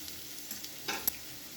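Papaya and potato pieces fry until reddish-brown in a pan, giving a faint, steady sizzle with a brief louder scrape of stirring near the end.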